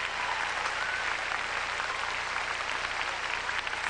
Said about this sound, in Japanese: 自分でも拍手をしています